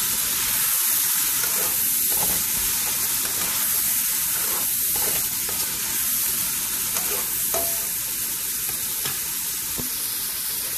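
Shrimp with satay garlic sauce and scallion sizzles loudly and continuously in a hot pan as it is stirred, a dense close frying hiss with no talking.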